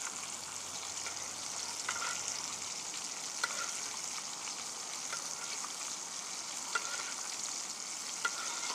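Apple and bacon wrapped venison backstrap sizzles in butter in a pan, a steady close crackling fry with faint scattered pops and no voices.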